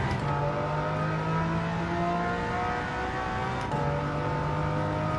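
Porsche race car engine in Gran Turismo 7, a steady loud whine with shifting pitch as it holds speed and changes gear, continuous and close with no talk.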